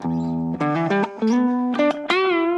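An overdriven electric guitar through a Vox AC30 amp model plays a short melodic phrase of sustained, distorted single notes and bends, clear and up front with a touch of reverb.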